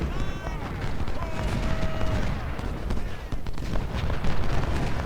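Artillery in a Civil War strategy battle during a siege: dense, continuous rumble of cannon and musket fire with scattered sharp reports and a brief whistling tone, steady and fairly loud throughout.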